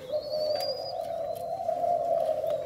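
Spotted dove cooing in a steady, tonal, repeated call close by with a soft background of outdoor noise, a thin high chirp briefly above it.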